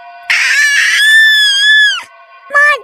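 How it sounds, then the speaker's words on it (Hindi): A witch screams in a shrill, strained voice, a loud drawn-out shriek that wavers and falls, followed by a shorter second cry after a brief gap. "अचानक वो चीख पड़ती है"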